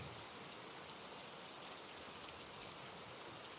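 Steady rain pours down in a Bengali horror cartoon scene, a dense, even hiss of drops filling the whole stretch without pause, close and continuous with no voices over it.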